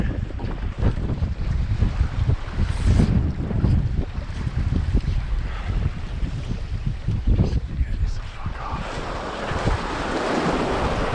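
Wind and ocean swells rolling in at a Rhode Island fishing shore in rough, nasty weather: a constant loud wash of surf and gusting wind buffeting the microphone, with waves building and breaking throughout.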